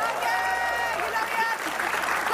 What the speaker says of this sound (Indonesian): Iya, kita kasih tepuk tangan.